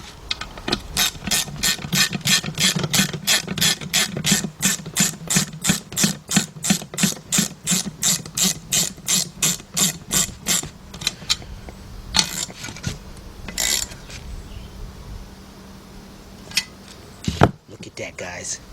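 A ratchet tightens a 10mm nut on a 2005 Chevy Impala during an ABS-to-non-ABS conversion, with long runs of evenly spaced clicks close by, then slower scattered clicks and a few metallic knocks.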